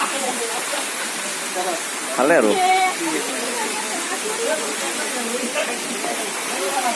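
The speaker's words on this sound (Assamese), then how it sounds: "ওপৰৰ পৰা পানী পৰি আছে পুৰা" A waterfall pours from above near a temple, making a constant broadband rushing roar, with a person talking briefly over it.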